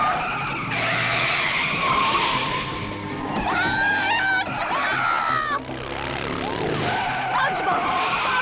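A cartoon boat-car, in a SpongeBob driving lesson, brakes hard and skids with a long, loud squealing screech and wavering whines, while excited voices shout over it.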